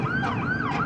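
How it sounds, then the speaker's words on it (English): An emergency siren wails from the city at night in Miami's Brickell area, a rising and falling tone over low traffic rumble, with no talking. "I feel like I'm back in New York with the sirens"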